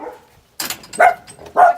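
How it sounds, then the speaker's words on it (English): A guard dog in a backyard by the gate gives a few sharp barks and yips in quick succession, loud and close, with no talk over them. "That's the guard dog."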